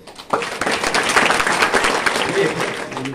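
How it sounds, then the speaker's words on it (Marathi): An audience at a gathering breaks into applause, a dense burst of clapping that rises quickly and holds steady, with a voice speaking over it. "गावासाठी एकदा टाळ्या वाजवा आपण सगळे"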